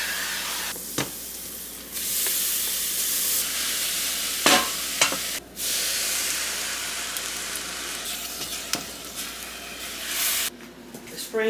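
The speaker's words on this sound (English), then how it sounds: "Spraying this with a little oil" A hissing spray of cooking oil bursts onto a hot pan, followed by steady sizzling and a few sharp clicks and clatters nearby.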